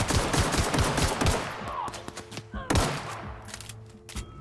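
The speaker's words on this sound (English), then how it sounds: "I'm dodging bullets." Rapid bursts of video game gunfire from The Outer Worlds crackle in dense volleys, with a fast machine-gun-like stutter up front, a sharp louder shot near the middle, and ongoing firing layered over a low mechanical hum.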